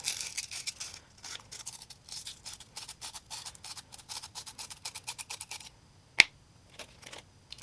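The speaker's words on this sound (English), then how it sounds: "Our next step is to scuff the brass tubes so they can be better glued inside of the blank." Sandpaper pinched around a brass pen tube and twisted, giving a quick run of dry, crisp scratching strokes up close, then a sharp click near the end and quieter gaps.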